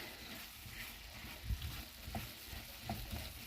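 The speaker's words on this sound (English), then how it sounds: "So it's boiling up, so now I'm going to turn it down a little bit." Caramel apple filling bubbling in a pan on the stove, a steady low frying-like sizzle and simmer with a few soft pops and stirring bumps, close and continuous with no talking.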